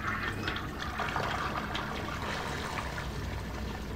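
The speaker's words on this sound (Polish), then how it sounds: "Ale dobrze, spuścił wodę" A toilet flushing in the video game Heavy Rain, a steady rushing, gurgling wash of water that runs evenly through the whole stretch at moderate loudness, with no talk over it.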